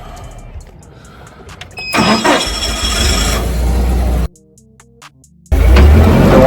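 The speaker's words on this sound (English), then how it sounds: "I'm gonna jump on the forklift" A forklift engine cranks and starts with a sudden loud roar that holds for a couple of seconds, cuts out briefly, then comes back running strong and close.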